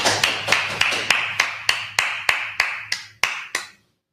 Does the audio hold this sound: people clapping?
yes